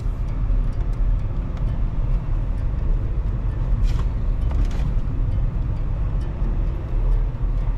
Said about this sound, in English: The vehicle is automatically speeding up and slowing down on its own, depending on the speed of traffic ahead of me.